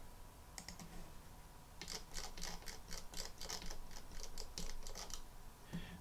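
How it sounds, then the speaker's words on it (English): Quick taps on a computer keyboard sound as a string of light, crisp clicks, faint and close, in uneven bursts over a low background hum. No one speaks. "I'm going to hit the U key on my keyboard"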